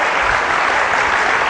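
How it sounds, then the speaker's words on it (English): An audience applauds on stage at a public speaking event, a dense steady burst of clapping filling the room without pause. "Can we have a big round of applause for Lobita?"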